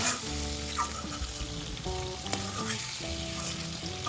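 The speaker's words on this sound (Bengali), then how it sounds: "চিংড়ি মাছটা হালকা ভাজা হয়ে গেছে" Shrimp coated in salt and turmeric sizzle in mustard oil, a fairly quiet, continuous frying hiss with faint stirring, and nobody speaks.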